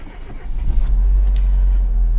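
A car engine's deep, close rumble swells and holds steady as the car pulls away on a hot sunny day, with no talking.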